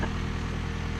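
A John Deere 6110M tractor engine runs steadily at close range in a field, a brief loud low rumble with an even throb.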